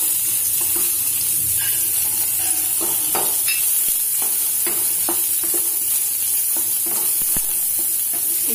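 A cup of chopped onion with green chillies sizzles steadily in a pan while being stirred, with soft scraping taps of the spatula scattered over the continuous frying hiss.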